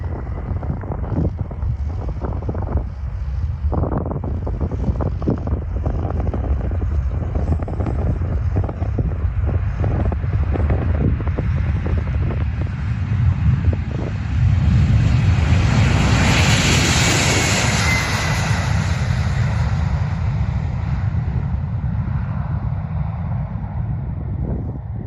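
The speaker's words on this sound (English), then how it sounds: "This Boeing 767 taking off from Antarctica, creating a cloud of snow behind it." A Boeing 767 takes off from a snowy Antarctic runway, its jet engines a loud, sustained roar that swells to a peak midway and then slowly recedes, with wind buffeting the microphone throughout.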